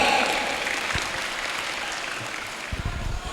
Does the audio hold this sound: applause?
yes